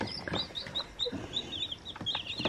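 Roosters and hens clucking in a farm flock, several birds giving repeated short clucks and squawks close by, with no talk.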